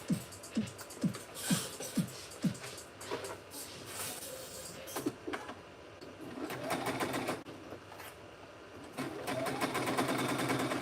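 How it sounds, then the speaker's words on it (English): Sewing machine basting a bag lining along the very edge, starting with a few short separate bursts of stitching, then running in longer steady mechanical whirring stretches, close and clear. "I am just basting my lining on, like on the very, very edge."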